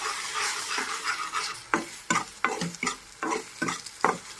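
A spicy egg fry curry sizzles in a pan while a spoon stirs an egg through it, a low frying hiss punctuated by a series of sharp, rhythmic scrapes and taps against the pan.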